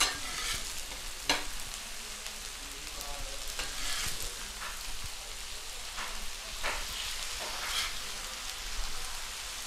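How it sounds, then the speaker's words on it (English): Smashed burger patties with onions sizzling on a griddle, a steady close crackling fry with occasional sharp scrapes and taps of a spatula. "and smash these. Now we give these a little flip. Keep your onions on there."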